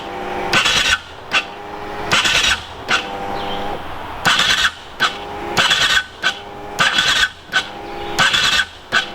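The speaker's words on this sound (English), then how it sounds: "I'm pretty much stalling the starter against the compression of the engine" An Aprilia RXV motorcycle's electric starter cranking and bogging against engine compression, repeated loud grinding whirs that strain and stop in short bursts with brief pauses between, close up and without talk.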